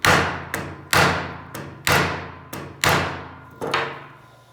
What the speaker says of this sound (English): I'm just going to, you know, maybe hammer on it a little bit, see if I can't close this up.